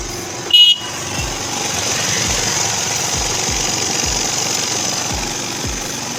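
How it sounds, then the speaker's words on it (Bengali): A Hero Maestro scooter engine with a slightly cracked silencer runs steadily nearby, a loud continuous rough drone with a faint putter, after a brief sharp high beep at the start. "কত সুন্দর গাড়িটা ইঞ্জিনের সাউন্ড হয়েছে।"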